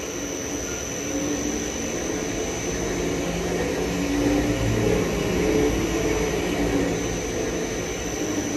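An explosion-proof kneader mixer runs at half speed, giving off a steady, loud mechanical hum with a broad noisy rumble and a thin high whine that hold level throughout, with no voices.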